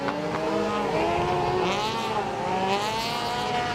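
Rallycross car drifting through a corner at Estering, with a loud, steady engine howl that rises and falls in pitch through the slide and a faint tire hiss beneath, all close and continuous.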